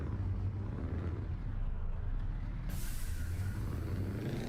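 Air brake on a truck in Euro Truck Simulator, a continuous loud hiss of released air over engine rumble, with a change in the sharper upper hiss partway through and no talking.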